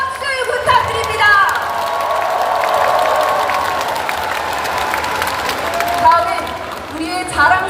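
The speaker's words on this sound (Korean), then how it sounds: "여러분 다시 한번 큰 박수 부탁드립니다." A crowd at a Democratic Party of Korea leadership convention applauds and cheers loudly in a large hall, a broad continuous roar of clapping with a voice speaking over it at the start and end.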